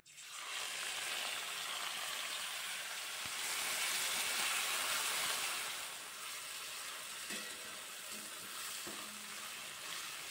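Small shrimp coated in salt and turmeric hit hot mustard oil in a wok, with a loud, sudden sizzling hiss that stays strong and steady, then settles to a softer fry with a few light clinks.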